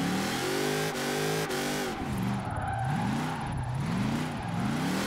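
Chevrolet Camaro ZL1 1LE drift build in Forza Horizon 4, its engine held high and revving with wavering pitch as the car slides, loud and continuous, with tire squeal through the drift.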